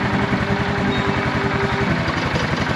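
A neglected Yamaha ATV engine idles steadily and loudly up close, with an even rapid chugging throb and no other sounds.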